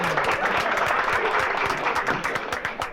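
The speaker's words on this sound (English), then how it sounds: "Let's give her a clap." Audience at a live comedy show claps steadily, a dense, even round of applause that holds for a few seconds without any talking.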